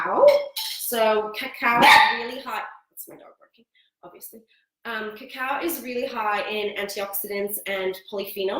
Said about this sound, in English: That's my dog barking, obviously.